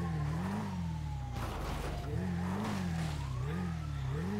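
A video game motorcycle engine drones and revs in rising and falling waves, with a brief rougher burst partway through, steady and up close.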